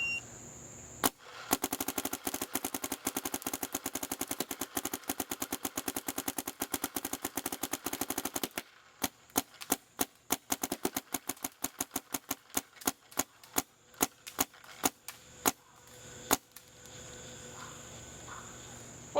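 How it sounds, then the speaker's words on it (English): A DM4 paintball gun fed from a 140-round shell empties its paint, first a fast continuous string of sharp pops, then a brief gap, then slower, irregular shots with small breaks. "I'm going to shoot the rest of the paint out of the 140 shell through the DM4 at nothing"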